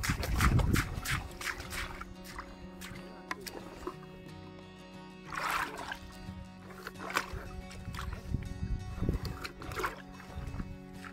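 Fresh water is scooped into a container from a small boat in the rain, with close sloshing splashes and trickles and a few louder pours over a faint background.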